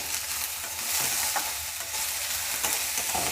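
Chopped spring onion goes into vegetables frying for fried rice, giving a continuous bright sizzle with a few stirring scrapes, close and steady, without voices.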